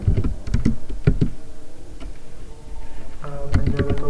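Typing on a computer keyboard while entering a database query, with clusters of close, crisp key clicks separated by short pauses and a final burst of presses.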